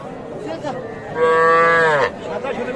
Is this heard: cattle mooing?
yes